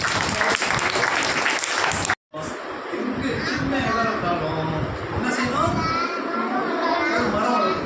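Students at a government school clap together in steady, dense applause at a tree-sapling event run by an animal and bird welfare trust, with children's chatter mixed in after a brief cut.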